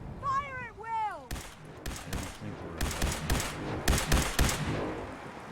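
Video game gunfire from soldiers firing at will, heard as several sharp volleys and scattered shots that follow a short passage of tonal sound.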